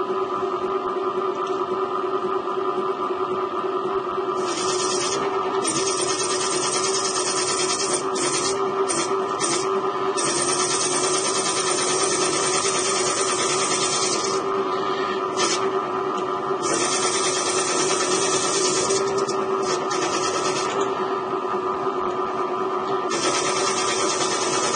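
A metal part being parted off on a machine tool while making a quick-change tool holder gives a steady, close mechanical hum and grinding whir, with intermittent high scraping bursts from the cutting tool over a continuous drone.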